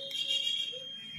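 Multimeter continuity beep while testing a wire of the CDI coil on a Pulsar NS160 motorcycle: a single faint, steady high-pitched electronic tone lasting about a second.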